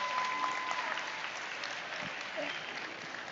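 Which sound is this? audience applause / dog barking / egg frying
audience applause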